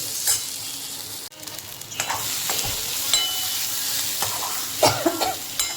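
Potatoes for a fasting-day dry sabzi are stir-fried in a pan. A steady sizzle runs under repeated scraping stirs and a few sharp clinks, close by and with no talk.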